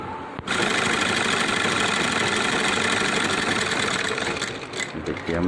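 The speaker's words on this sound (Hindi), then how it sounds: "इधर से एक चाप का सिलाई मार लेंगे" A sewing machine runs steadily while stitching the front placket of a shirt, a continuous close, loud mechanical whir that holds for about five seconds after a brief start and slows slightly near the end.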